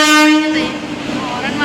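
A train horn blares loud and sustained as a steady, harmonic tone through the first half second, then fades into rail noise while people talk nearby.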